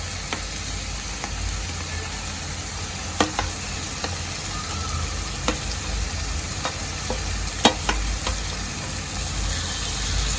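Mashed eggplant for Khandeshi bharit sizzles steadily in a hot pan, a continuous loud frying hiss broken by occasional sharp scrapes and clicks of a spoon stirring against the pan.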